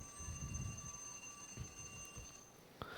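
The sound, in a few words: timer alarm going off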